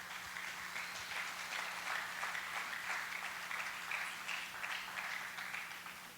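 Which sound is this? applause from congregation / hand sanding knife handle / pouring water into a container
applause from congregation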